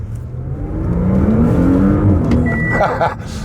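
An Audi SQ5's engine roars and climbs in pitch as it accelerates hard, loud and close, with a rising whine near the end.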